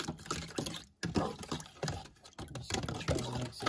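A sweet and hot marinade being stirred in a bowl for goose jerky, giving close, continuous wet sloshing and clicking, with one short break near the start.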